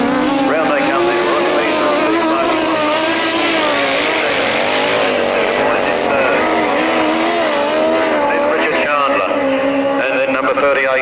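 Grasstrack racing motorbikes at a 1991 Staplecross meeting roaring round the track in a pack, loud overlapping engine whines rising and falling continuously, with a commentator talking over them.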